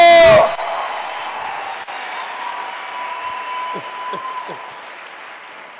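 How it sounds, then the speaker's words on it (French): A church congregation applauding and cheering for the Lord, a loud burst of crowd noise at the start that settles into sustained clapping and scattered shouts, with a few voices calling out near the end. "Est-ce qu'on peut acclamer le roi des rois?"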